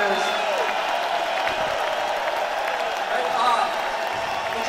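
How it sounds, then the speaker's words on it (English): An audience claps and cheers at a tribute concert in Manchester, NH for the string players, sustained applause that is loud and close the whole way through. "Have a nice round of applause for these awesome players"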